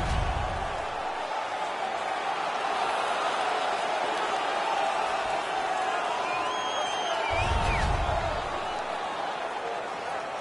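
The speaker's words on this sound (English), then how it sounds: "The home crowd is ecstatic. They're making all kinds of noise." A hockey arena crowd in the video game NHL 19 roars in a steady, moderate wash of cheering, with a couple of low thumps and faint whistles rising over the din.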